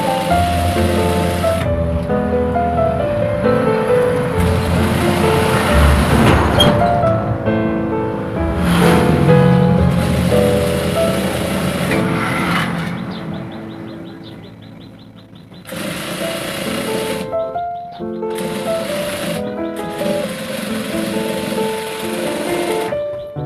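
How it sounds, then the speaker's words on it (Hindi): A sewing machine stitches a folded shirt edge hem with a loud, steady mechanical whir, then breaks into several shorter bursts separated by brief pauses near the end. "किनार की सिलाई लगा लेते हैं इस तरीके से मोड़ के"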